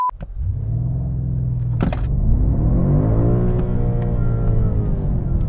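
A 2021 BMW M5 launches from a standstill, its engine roaring as it climbs steadily through rising revs, loud and close, with a brief sharp shift blip early on.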